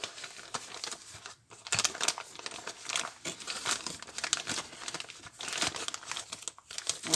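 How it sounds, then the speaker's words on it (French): A package of white clay powder is opened with continuous close crinkling and crumpling of the wrapper, with brief tearing bursts and a short pause early on. "je vais pendant ce temps ouvrir notre argile blanche"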